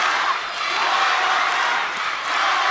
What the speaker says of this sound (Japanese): トヨタコールが巻き起こっております